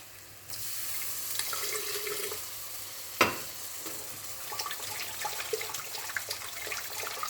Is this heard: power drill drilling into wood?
no